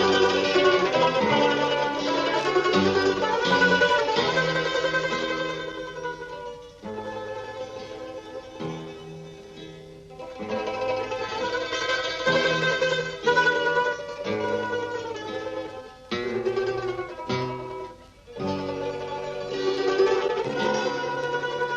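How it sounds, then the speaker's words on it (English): A balalaika orchestra plays in a refugee camp barrack canteen, a dense bright ensemble of plucked strings with rapid tremolo passages, rising and falling in loudness with brief pauses between phrases. "I was tipped off about a balalaika orchestra that was worth hearing."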